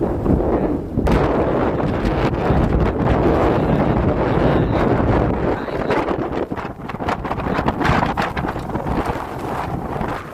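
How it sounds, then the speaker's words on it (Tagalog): Strong wind at a fishing spot buffets the microphone in a loud, continuous roar with gusty rumbles and crackling bursts throughout, no voices present. "Lakas ng hangin."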